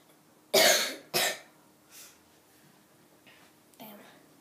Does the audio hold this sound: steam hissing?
no